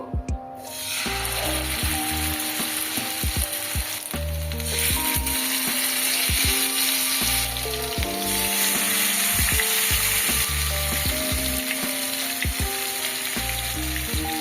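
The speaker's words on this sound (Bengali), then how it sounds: "এখানে আমি ম্যারিনেট করা চিকেনগুলো ভেজে নেব।" Marinated chicken sizzles loudly and continuously in hot oil over high heat, with repeated clicks and clatters of a utensil moving the pieces throughout.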